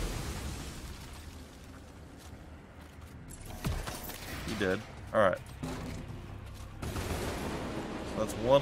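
Enemy gunfire in the video game Immortal: Unchained: scattered bursts of shots and blast-like thumps over a low background rumble, louder in the second half.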